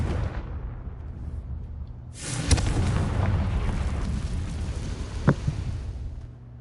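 A Confringo spell explodes in a video game: a booming blast swells into a long rumbling roar, with a sharp crack partway through and another smaller burst near the end.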